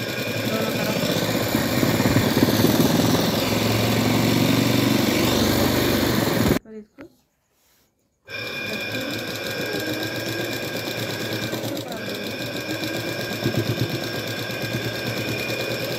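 A sewing machine stitches the sides of a pillow cover, a fast close rattling whir that runs continuously, stops dead for about two seconds, then resumes at a steady pace until the end.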